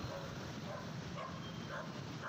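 Large dogs bark and yip at an open gate beside a busy road, sounding faint and distant beneath steady traffic and engine noise, with several short barks spread over a couple of seconds.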